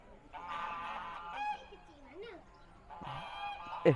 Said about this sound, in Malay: Itik kecil lagi.